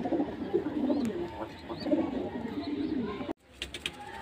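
Domestic pigeons kept at a house cooing in low rolling calls, near and continuous, before a brief cut leaves a few fainter sounds.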